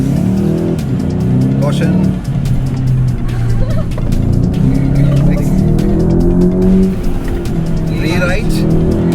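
A VW Golf GTI is driven hard in rally style, its engine roaring loud and steady throughout with brief tire squeals, while a co-driver calls out pace notes over the noise.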